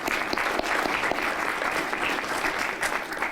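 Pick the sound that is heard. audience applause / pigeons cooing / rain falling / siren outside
audience applause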